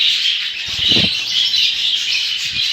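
Budgerigars kept as pets, jumbo-sized, give a dense continuous chattering of high chirps and twitters close by, with a brief flutter of wings near the start and another short burst later.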